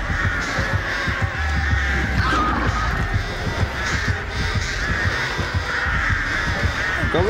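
Crows caw again and again inside the Dead by Daylight Mobile game, the harsh calls scattered over a steady, busy background of game ambience with a low throbbing pulse.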